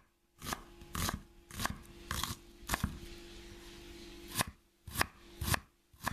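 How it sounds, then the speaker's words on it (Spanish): Onion chopped with a knife on a board, about nine sharp, close chops in irregular bursts separated by brief quiet gaps. "Empezamos cortando la cebolla."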